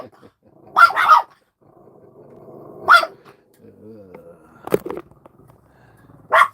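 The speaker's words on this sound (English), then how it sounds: "You see the doggies?" Dogs bark indoors in a handful of sharp, loud, separate bursts with low growling between them, and a person's voice is heard briefly.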